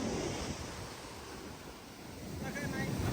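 Big waves surging onto Legian beach in Bali at night, a steady broad roar of surf with wind buffeting the microphone, swelling louder toward the end as a wave rushes in.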